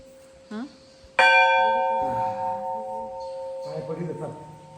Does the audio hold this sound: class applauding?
no